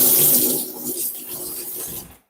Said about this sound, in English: I'm just going to give this a quick wash.